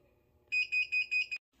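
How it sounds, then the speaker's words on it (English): Four steady electronic beeps from a heat press signaling it is ready, in a regular rhythm, close and clear, over a faint low hum, followed by silence. "It's going to beep when it's ready."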